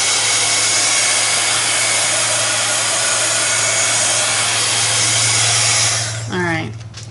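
A hair dryer blows steadily and loudly to dry a mixed-media craft page, then cuts out near the end as a voice begins speaking.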